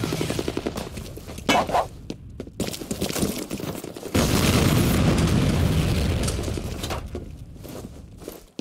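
A grenade goes off during a F.E.A.R. Combat multiplayer match: loud, dense booms and bursts of gunfire fill the scene, with a heavy sustained blast rumble in the middle and no talking.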